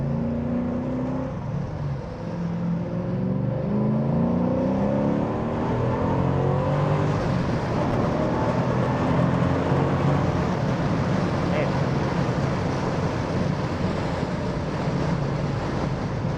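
A 750hp 1966 Pontiac 2+2 with an IRS chassis accelerates hard on an open road, its engine roar building and rising in pitch over steady wind and road noise.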